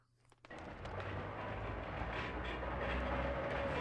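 A train runs in the video game Chulip, its steady rumbling roar rising abruptly after a brief quiet start and continuing loud and unbroken to the end.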